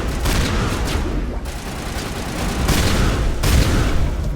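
Sustained gunfire from a firefight in Mass Effect Legendary Edition: dense, loud bursts of shots and booms run continuously, swelling in two heavier waves with no speech over them.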